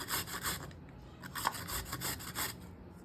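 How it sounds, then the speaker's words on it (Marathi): Carrot rubbed against a grater in steady back-and-forth strokes, a soft rasping scrape that repeats rhythmically and sits close but fairly quiet. "अगोदर गाजरनं छान किसून वगैरे घेते"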